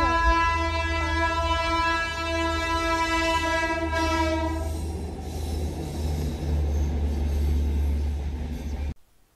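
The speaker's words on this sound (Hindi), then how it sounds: "इधर एक ट्रेन जा रही है" A train rolls past on a railway track with a long sustained horn blast over a steady heavy rumble of wheels, loud and near, the horn dropping away halfway while the clatter continues until it cuts off.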